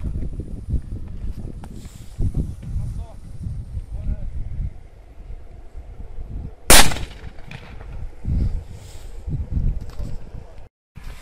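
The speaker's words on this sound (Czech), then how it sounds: "Petarda Achtung v hmozdíři od Single One Shotu." An Achtung firecracker fired from a launching mortar gives one sharp, loud bang that stands out over people talking nearby and outdoor background noise.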